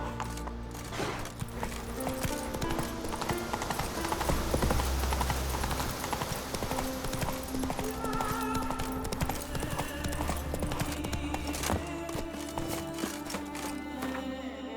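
Roach, the horse in The Witcher 3, gallops with rapid, rolling hoofbeats over a loud layered game soundtrack, the thudding rhythm steady and close throughout.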